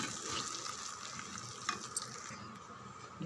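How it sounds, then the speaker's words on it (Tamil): Pepper spice powder being stirred into milagu kuzhambu in a pan, a close wet swishing and gentle sizzle with a couple of soft utensil clicks, no talking. "இதை நல்லா கலந்து விடுங்க"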